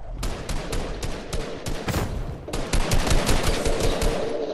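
Rapid bursts of automatic gunfire from a Fortnite Battle Royale match crackle in quick repeated volleys, loud and close, broken by a short pause before another sustained string of shots.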